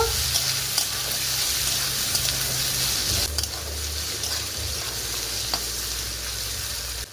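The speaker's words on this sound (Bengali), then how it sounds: "ঢাকা খুলে মাঝে মাঝে একটু কষে নেব" Bitter gourd and vola fish sauté in a pan with a loud, continuous sizzle as they are stirred, with a few scraping knocks and a brief dip partway through.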